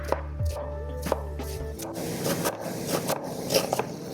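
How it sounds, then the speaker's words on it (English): A knife chops an onion on a cutting board, a run of quick, crisp taps that turns into faster, steady chopping, close and fairly clear. "I try to cut this onion as small as I can"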